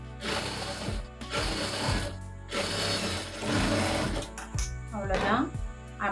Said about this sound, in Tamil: உள்ளே விட்டு தைக்கும்போது இது ஈஸியாக இருக்கும். இப்படி ஒரு படிமான தையல் போட்டுக்கோங்க.